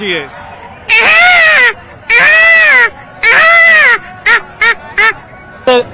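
A voice mimics a peacock's call: three long, wailing cries followed by a run of short, sharp yelps, loud and close.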